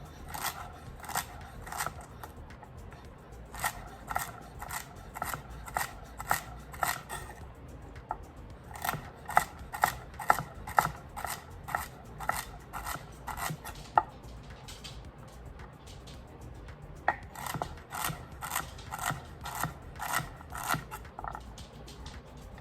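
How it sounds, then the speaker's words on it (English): Knife chopping vegetables on a cutting board for Mexican chicken soup, crisp rapid bursts of close taps in rhythmic runs separated by short pauses, no talking. "And just give them a nice chop"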